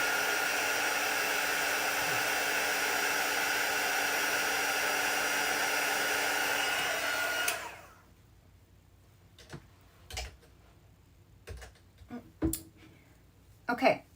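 A hair dryer blows in a steady, loud, even whoosh for about seven and a half seconds while drying wet ink on a painting, then switches off, leaving quiet room tone with a few soft knocks and taps.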